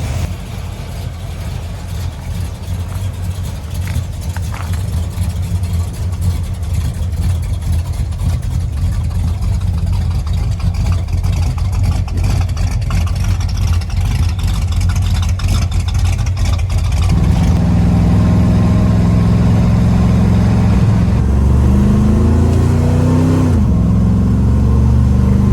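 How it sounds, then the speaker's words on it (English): An old car's engine runs loud and close during an Ohio winter, a rough steady rumble that shifts into a deeper, throatier revving note partway through. "give me an excuse to start some vehicles"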